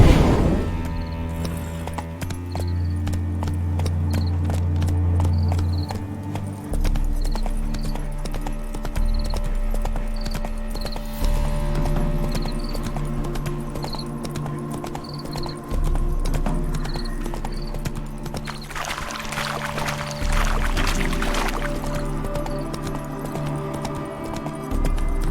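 A horse in a video game clip-clops along in a steady, even hoof rhythm under continuous game music, close and clear throughout, with no talking.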